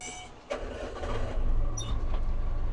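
A DTZ 5504 tractor engine cranks and catches, then settles into a steady, close mid-pitched running rumble that holds loud to the end.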